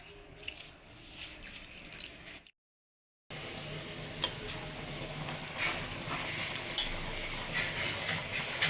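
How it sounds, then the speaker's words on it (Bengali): Water running from a household tap once power returns after an outage, a steady, hissing gush that stops briefly into silence and then resumes a little louder. "এখন আমাদের কলে দিয়ে পানি পড়তেছে যে শব্দ হইতেছে"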